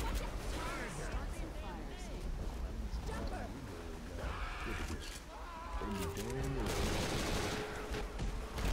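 Bill fires a gun in Left 4 Dead 2 with repeated shots that run under continuous game noise and wind-like rushing, while players talk over the top.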